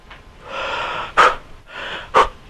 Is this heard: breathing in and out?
yes